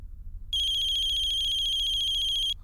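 A mobile phone rings with a bright, steady electronic trill for about two seconds, close and loud over a low background rumble, with no one speaking, in an office scene from a Hindi television comedy.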